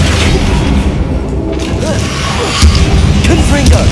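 The Flipendo spell is cast in Hogwarts Legacy on Xbox Series S, producing a loud, close game-effect boom with heavy thuds and mechanical clatter that fills the whole moment.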